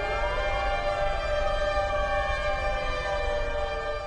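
A wailing siren, slowly rising and falling in pitch over a steady rumble, sounds continuously and fairly loud, accompanying a Colorado Ballet dance performance.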